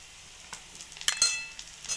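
Onion, garlic and green chili sautéing in hot oil with a faint steady sizzle, broken by a few sharp stirring scrapes and crackles near the end.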